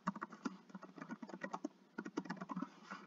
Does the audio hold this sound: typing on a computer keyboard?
yes